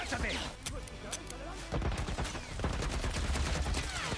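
Rapid military turret gunfire in The Last of Us, with dense bursts of shots and crashes filling the whole stretch, loud and continuous, with voices talking over the shooting.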